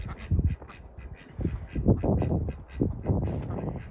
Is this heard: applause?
no